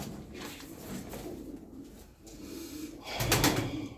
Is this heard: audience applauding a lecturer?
no